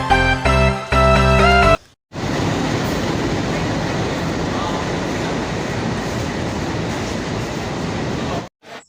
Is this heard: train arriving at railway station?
yes